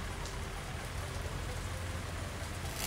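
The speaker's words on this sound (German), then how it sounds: "Warum regnet das denn jetzt so viel?" Steady rain falls in the Workers & Resources video game, a dense continuous patter of drops at even loudness throughout, with no voices.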